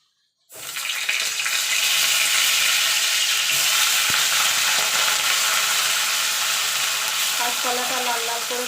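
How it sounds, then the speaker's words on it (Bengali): Raw green banana drops into hot oil for a Bengali shukto, bursting into a sudden loud frying sizzle that holds steady and close, with faint clinks near the end. "এই তেলে কাঁচকলাটাও ভেজে নেব"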